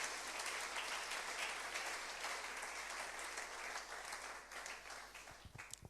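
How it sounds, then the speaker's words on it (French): A church congregation applauds loudly for the Lord with steady, dense clapping that holds for several seconds and then thins out near the end. "Est-ce que nous pouvons acclamer très fort pour le Seigneur?"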